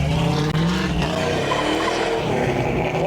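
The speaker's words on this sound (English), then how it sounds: "I feel comfortable going out and making some hot laps" Trackhawk-inspired Jeep Wagoneer XJ with a swapped LS engine doing hot laps. Its engine roars loudly and steadily close by, with skidding and tire squeal throughout.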